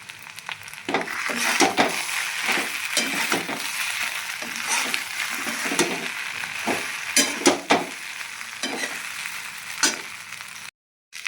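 Tempered idli cubes with cumin, coriander-cumin powder and red chili are stirred in a hot pan, with a continuous frying sizzle broken by repeated scraping and clinking strokes of a spoon, close and fairly loud, without speech.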